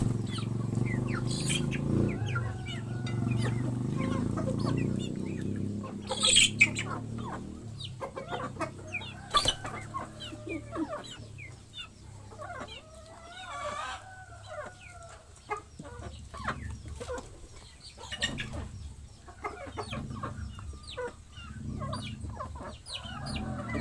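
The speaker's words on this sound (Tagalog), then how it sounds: "Dami kasi ako mga alagang mga manok guys" Pet chickens cluck and cackle intermittently over about twenty-four seconds, scattered bursts near and far with scratchy rustling and a low rumble early on, no talking.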